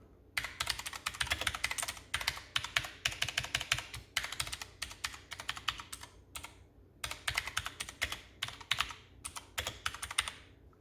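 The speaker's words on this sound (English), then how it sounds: "So as you can hear, it's a pretty loud keyboard." A Redragon K552 mechanical keyboard typed on hard and fast, with loud, close clacking keystrokes in dense bursts broken by short pauses.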